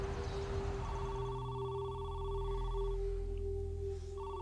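A cell phone rings in a room during a tense standoff, a soft repeating electronic trill with a steady low hum beneath and no talking.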